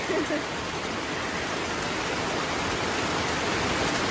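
Steady, dense heavy rain in Pattaya pours down continuously, a broad even hiss filling the whole clip with no pauses.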